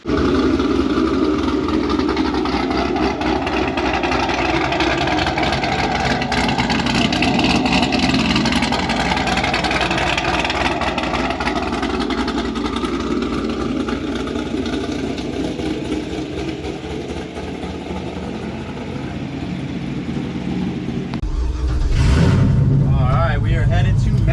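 A cammed 2019 Camaro SS 1LE V8 with heads and full bolt-ons on E85 idles with a loud, steady, lumpy rumble for a long stretch, then a sharp louder burst near the end, with voices talking over it.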